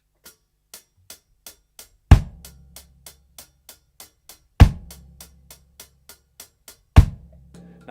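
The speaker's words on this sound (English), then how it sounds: "In reggae music, it's something called the one drop or the drop one." A sparse drum groove: steady closed hi-hat ticks with a heavy kick and snare landing together on the third beat, the characteristic one-drop feel, played alone.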